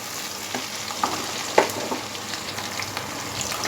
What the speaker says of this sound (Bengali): গ্যাস মিডিয়ামে রেখে হালকা ব্রাউন কালার হওয়া পর্যন্ত পেঁয়াজ কুচিটা আমি ফ্রাই করে নেব